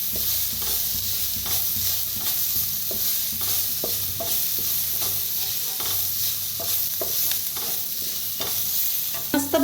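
Spices and turmeric being stirred and fried in a pan for vada pav, with a steady loud sizzle under repeated scraping stirs and light clicks of the spoon, close up and with no talking.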